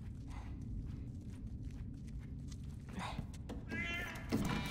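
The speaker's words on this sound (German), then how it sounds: "Scheiß Katze." A cat meows in The Last of Us on PS4, a short cry heard over a steady low rumble of game ambience, with faint footsteps and a brief rising call near the end.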